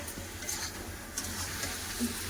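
Chopped tomatoes with turmeric, chili and cumin powders stirred and fried in a pan for a potato and meat curry, soft scraping of a spatula over a low sizzle, with a few brief clinks.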